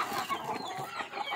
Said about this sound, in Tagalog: Yan ang pagpakain ng native chicken